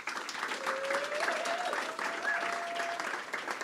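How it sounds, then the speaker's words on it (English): Audience applause at an art salon panel event, steady and fairly full throughout, with a faint whistle-like tone running through the middle. "Give it up for Rachel."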